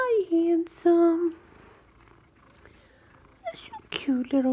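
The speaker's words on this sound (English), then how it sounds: "Can you hear me purring? I can hear you purring." A cat purrs in a soft, steady low rumble, heard most clearly in a quiet stretch between bursts of close, affectionate talking at the start and end.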